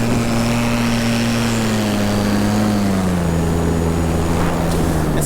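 An electric paramotor's propeller at full throttle in flight gives a loud, continuous whirring drone with a steady tone that drifts slightly lower partway through, heard alone with constant wind rush.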